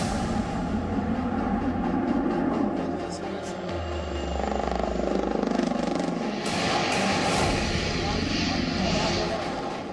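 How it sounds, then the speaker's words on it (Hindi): Rafale fighter jets of the Indian Air Force roar over the Pokhran desert in Rajasthan, a loud, continuous engine rumble with a rising swell partway through, heard under steady talk. "भारत के लड़ाकू विमान एक बार फिर पाकिस्तान की सीमा पर दहाड़ने के लिए तैयार हैं।"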